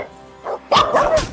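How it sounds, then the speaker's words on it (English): Real pet dogs barking at wolves on a television, a short yip followed by a burst of loud, close barks, with no talking. "My real dogs are barking at the wolves on TV."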